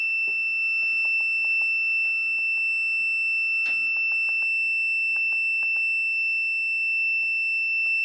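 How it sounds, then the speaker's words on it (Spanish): A steady high-pitched alarm tone from a MAM-860 controller drones continuously at power-on, with scattered soft clicks and ticks from nearby equipment underneath. "Vamos a encenderlo y vean ustedes que va a salir la alarma."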